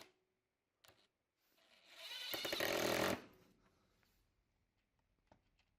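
A DeWALT DCF850 cordless impact driver drives self-tapping screws into a wooden board in one rattling, hammering burst of about two seconds. A few faint knocks and clicks come before and after it in an otherwise quiet room.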